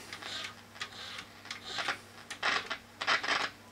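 Crackle from shorting tuner plates in a Rigonda Symphony radio: irregular clusters of sharp, dry ticks and pops over a low steady hum, moderately close and without talk.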